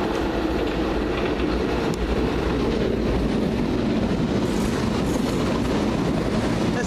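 A London Underground Piccadilly line train passes at Stamford Brook with a continuous loud rumble and rhythmic clickety-clack of wheels over rail joints, swelling slightly midway, with no voices.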